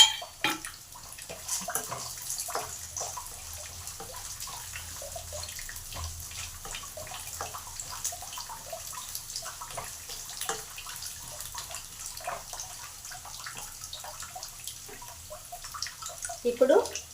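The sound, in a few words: okra (ladyfinger) frying in a pan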